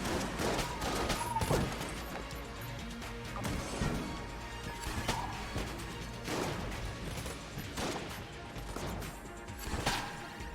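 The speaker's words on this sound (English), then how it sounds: "I'm gonna kill these enemies with gamma ray" Gamma ray gun blasting enemies in the Enter the Gungeon video game, a dense run of loud crashing, smacking shots and impacts layered over busy game noise, with no clear pauses.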